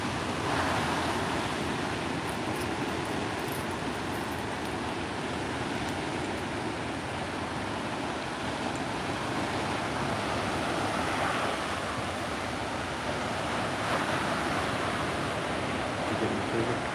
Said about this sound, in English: I want to see some more of those big waves that we were looking at.